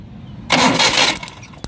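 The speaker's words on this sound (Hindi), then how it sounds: "ये करंट का स्पार्क चेक करने के लिए हम इंजन को मूव करेंगे" A Maruti car engine cranks over in a single loud burst of roughly three-quarters of a second, then drops back to a low hum with a sharp click near the end; no voices.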